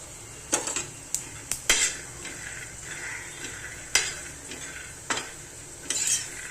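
Peanuts roasting in a pan rattle and scrape as a utensil stirs them, sharp clinks and scuffs arriving in irregular bursts over a faint steady hiss, close and without talk.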